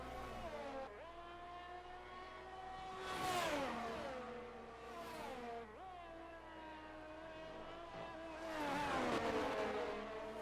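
Formula 1 race cars in the F1 22 video game at a virtual Japanese Grand Prix: engines drone steadily with rising and falling pitch as cars accelerate and shift, swelling loudly twice as cars pass close.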